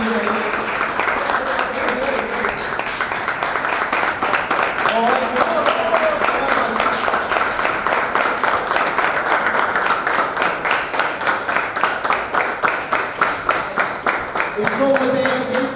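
An audience at a cricket league event breaks into sustained, rhythmic clapping that continues for many seconds, with voices talking and cheering through it.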